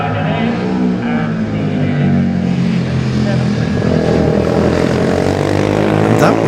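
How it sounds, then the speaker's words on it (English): A racing motorcycle at the Classic TT junior race approaches from a distance, its engine rising into a loud, steady drone as it nears, under a commentator's voice. "There's a bike approaching, it looks like Peter Bose."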